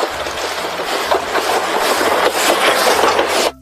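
Motorized Thomas toy train rolling along its track, a close, steady rattling and whirring with a faint repeating clatter, running alone for a few seconds before stopping abruptly.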